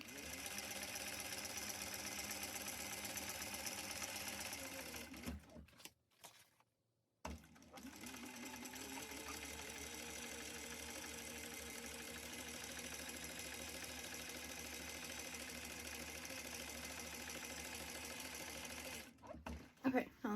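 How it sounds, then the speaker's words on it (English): A sewing machine stitches along the top edges of a fabric tote bag, running in a steady whirring hum close by, pausing briefly for a couple of seconds before resuming and stopping near the end. "we're gonna go to our machine and we're gonna sew both top edges"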